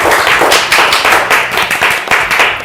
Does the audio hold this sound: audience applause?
yes